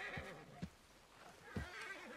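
Short, faint horse snorts and whinny fragments mixed with a few hoof thuds from a wild horse being tamed in Red Dead Redemption 2, set against quiet game ambience.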